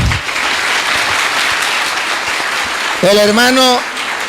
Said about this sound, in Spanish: Aplauso pues para el hermano.